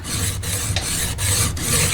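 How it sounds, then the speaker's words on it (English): A single bevel broadhead is rubbed flat across a sharpening stone in steady back-and-forth rasping strokes, close and clear, with short pauses between passes. "just lay them flat on your stone and just keep even,"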